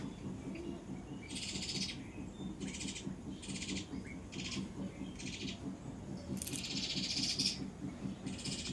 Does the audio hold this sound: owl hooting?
yes